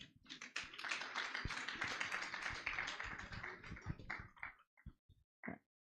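A round of applause from a conference audience at a Niger Delta project launch, fairly faint and even, thinning out into a few last scattered claps.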